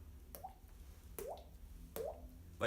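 Pebbles dropped one at a time into water in a jug, giving three separate hollow plops with rising ringing tones, spaced under a second apart, fairly quiet and alone.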